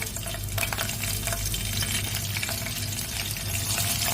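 Green chillies sizzle and crackle in hot oil for tomato rice, a continuous close frying hiss with light stirring scrapes over it and no voices.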